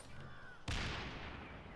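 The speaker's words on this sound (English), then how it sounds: "I heard an explosion. I just exploded!" A sudden blast from a mine going off in the Far Cry 4 game hits hard after a quieter stretch, then trails off into a sustained rumble.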